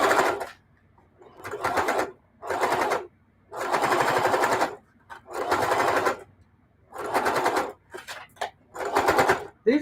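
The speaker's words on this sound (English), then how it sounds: "These are some pretty big, thick seams that I'm sewing through." A sewing machine stitches through thick seams in bursts, a loud close rattling hum that starts and stops about six times with short pauses between runs.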